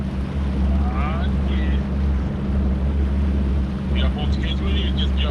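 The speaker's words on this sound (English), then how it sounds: "I'm idling out of the roundout as we speak." A Ranger Z520L bass boat idles out on a river on a cold November day, its outboard giving a steady, close, low rumble with wind noise across the microphone and a voice speaking over it.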